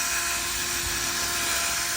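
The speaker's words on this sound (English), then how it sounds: "Somebody grab it, letting the drill do the job." A drill-driven brush scrubs a car's fabric convertible top, giving a steady, loud whirring hum with a constant high-pitched whine and no pauses.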